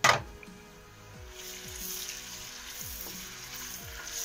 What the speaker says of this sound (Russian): Масло раскалилось, и постепенно добавляем телятину.